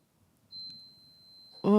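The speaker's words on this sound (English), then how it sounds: "Oh, something's beeping in my apartment. Oh, it's my slow cooker." A single sustained high electronic beep sounds from a slow cooker in a quiet apartment, followed by a voice starting to speak.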